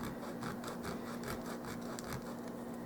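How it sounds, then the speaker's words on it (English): Rhythmic scraping of a small miniature pumpkin base rubbed back and forth on sandpaper, a steady series of close, soft rasping strokes with a faint background hum. "and sand it until it's flat and wants to stand"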